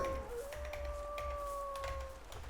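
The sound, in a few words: Howling Warg howling in the video game Final Adventure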